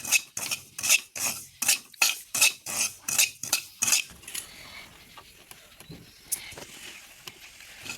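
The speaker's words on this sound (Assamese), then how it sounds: "চুজিটো ৰঙচুৱা হোৱাকৈ ভাজিম" Frying in a pan until browned, with a rhythmic series of about a dozen sharp scraping strokes of a utensil against the pan, followed by quieter sizzling and a few scattered clinks.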